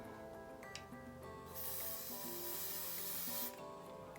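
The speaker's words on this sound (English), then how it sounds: "I spray enough on there that I can kind of spread and distribute." A two-second burst of hair product sprayed from a can onto natural hair, a close, steady hiss that starts and stops sharply against a quiet background.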